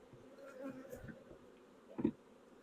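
Honeybees buzz at close range on hive frames, a steady low hum with a louder swell near the end, no voices.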